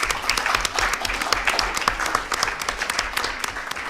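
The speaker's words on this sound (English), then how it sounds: "So we need to congratulate, applaud them for this capacity." A small audience claps for a few seconds, the individual hand claps distinct and fairly close, with a steady lively rhythm.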